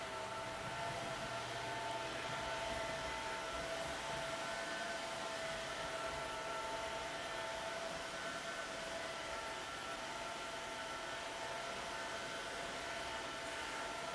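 A cordless vacuum mop cleaner runs steadily and alone at close range, a continuous whirring motor hum with a faint high whine that holds level throughout.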